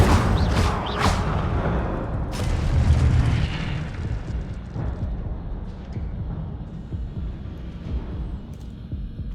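An Incendio fire spell from the Hogwarts Legacy video game bursts out in a loud, dense whoosh with booming low rumble, and several sharp flares crackle through the first seconds before easing into a steady roar.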